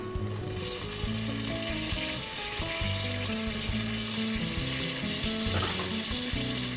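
Vegetables and spices sautéing in oil for a korma biryani, a strong steady sizzle with stirring scrapes and clinks, backed by faint music.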